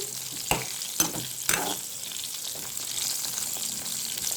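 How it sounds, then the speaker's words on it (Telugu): Bitter gourd pieces fry in hot oil with a steady bright sizzle, broken early by three sharp stirring clanks of a spoon against the pan; no one speaks. "చక్కగా ఆయిల్లో ఫ్రై అవ్వాలి."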